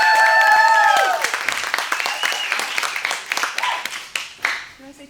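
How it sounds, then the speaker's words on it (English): An audience greets a speaker at an outdoor-adventure talk with applause that begins under a voice, swells, then thins to scattered claps and fades out. "Warm round of applause, please"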